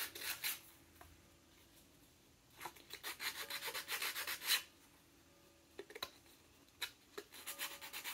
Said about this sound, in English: Told me I had to sand this.